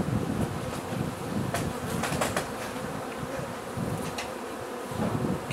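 Honeybees buzz steadily around an open hive during a split, a dense close drone with individual bees passing near now and then, with no voices.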